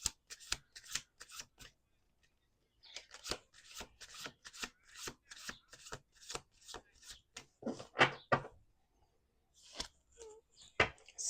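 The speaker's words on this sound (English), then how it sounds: "Last shuffle." A deck of tarot cards is riffled and shuffled in quick bursts of crisp, close fluttering snaps, pausing briefly between rounds and then resuming in steady repeated sweeps.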